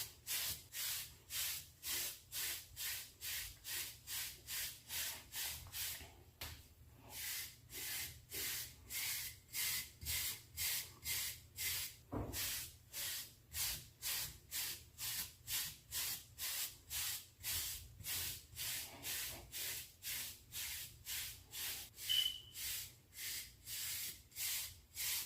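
A brush sweeps steadily through pomade-coated hair while training 360 waves, each stroke a soft close bristly hiss repeating in an even rhythm of roughly two per second for the whole stretch.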